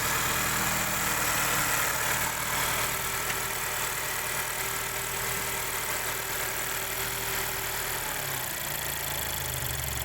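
A 2013 Honda Accord Sport engine with an idle control fault (P0507) idles steadily up close, a low continuous rumble with a slight rattle, its pitch dipping briefly near the end.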